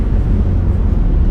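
A 1992 Daihatsu Zebra Turbo S89 engine gives a loud, close, low rumbling drone heard from inside the vehicle, steady throughout the short moment with no talking.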